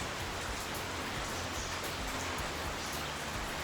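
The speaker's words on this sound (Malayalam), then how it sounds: "നല്ല മഴ പുറത്ത്" Heavy rain pours down outside in a steady, dense hiss that holds evenly through the whole stretch with no pauses.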